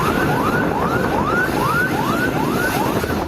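A fire engine siren wails loudly, rising and falling in quick, regular sweeps over heavy traffic rumble, close by and continuous, as fire engines respond to a farm fire in Cilincing.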